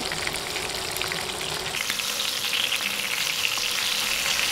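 Fish frying in a hot pan, a loud continuous sizzle and crackle that brightens and intensifies partway through, close and alone without any voices.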